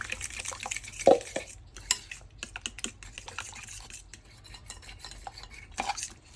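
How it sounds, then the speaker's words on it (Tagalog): A crispy eggplant dish of Baguio eggplant stirred with a cake slicer, close clattering scrapes and taps against the pan in an irregular, busy rhythm with no talk. "So cake slicer yung ginamit ko pang halo."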